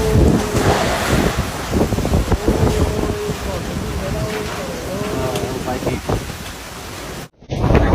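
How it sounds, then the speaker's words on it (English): Fierce typhoon winds lash Vietnam's central coast near Da Nang during Typhoon Kajiki's landfall, a loud continuous roar of wind buffeting the microphone with surf-like rushing, under a voice talking throughout, then a sudden brief dropout near the end. "rains and strong winds lashed Vietnam's central coast Monday"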